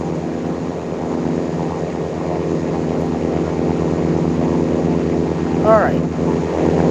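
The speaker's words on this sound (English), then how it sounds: "Like I said, you get a Lockheed C-130 Hercules." A Lockheed C-130 Hercules propeller transport in the flight game Infinite Flight gives a steady, loud engine drone with a constant tonal hum, and a brief swooping tone rises and falls near the end.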